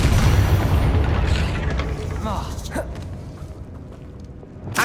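A Confringo explosion spell goes off in the Hogwarts Legacy video game as a loud, rumbling boom at the start that fades slowly, then a few softer clicks and movement sounds before a short final burst.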